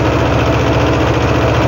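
Mahindra Jivo 225 DI tractor running in a field in low third gear, its engine a steady, loud, close, continuous chugging drone.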